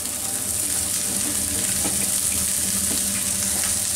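Finely chopped yardlong beans, carrot and cauliflower fry in a pan with a loud, continuous close sizzle and faint stirring scrapes throughout.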